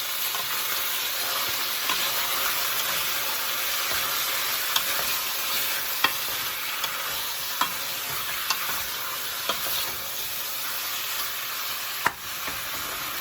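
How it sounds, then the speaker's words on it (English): Beef bolognese sauce stirred in a pot over medium-high heat, a constant close simmering sizzle with occasional scrapes and clicks of the spoon against the pot. "What I'm gonna do is stir."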